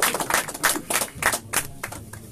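Applause at the inauguration of a weather station, heard as a run of loud, close, uneven claps with bursts and gaps, no talking.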